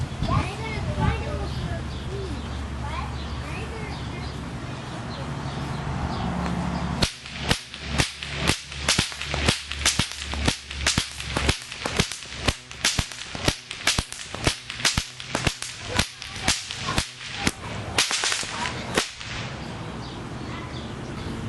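A leather stock whip cracks sharply over and over, a rapid series of loud snaps in irregular rhythm after several seconds of outdoor talk and birdsong.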